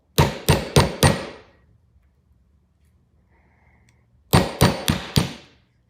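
A hammer knocks a pin out of a vintage Evans lighter in two bursts of four sharp metallic taps, with a quiet pause between the bursts. The strikes are close and loud.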